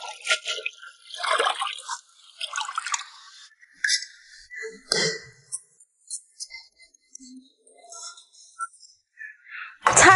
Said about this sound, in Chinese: 我先把这个菜洗一下